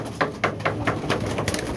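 Pigeons at a rooftop loft give a run of repeated soft coos, close and fairly steady, with a hiss of background noise and no voices.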